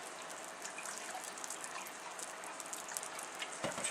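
Milk pouring into a pan of butter melting over low heat: a soft, continuous liquid gush and trickle with faint splashes, quiet and alone without any talk.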